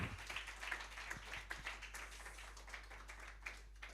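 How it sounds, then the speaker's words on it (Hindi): An audience claps at a church gathering to welcome a guest, a faint, thin patter of hands with scattered sharper claps, fairly distant and fading toward the end under a steady low hum. "सभी लोग तालियों के साथ उनका स्वागत करें।"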